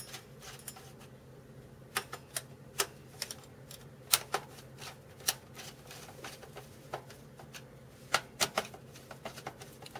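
Screws are driven back into a PS3 console during reassembly, making sharp, irregular clicks and ticks of a screwdriver on small screws and plastic casing. The clicks are close but quiet and come in scattered bursts, with no talk.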